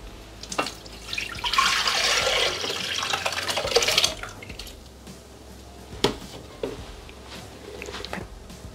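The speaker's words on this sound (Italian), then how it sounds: "versare il composto nel boccale" Soaked oat mixture pours into a Thermomix jug with a steady splashing, liquid rush lasting a few seconds, followed by a few isolated drips and clinks in a quiet kitchen.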